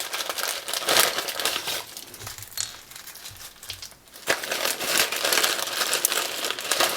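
A plastic parts bag handled and rummaged through, with close, loud, continuous crinkling and rustling that dips briefly in the middle before resuming busily, with no talking.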